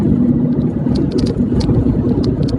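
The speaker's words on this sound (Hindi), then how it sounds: "तो ये जो ट्रैफिक आप दिख रहे हैं ये बॉम्बे में जाने वाला ट्रैफिक है।" Steady highway traffic rolls toward Bombay on a Navi Mumbai road, a continuous near roar of engines and tires with faint higher whirs from passing vehicles, no talk.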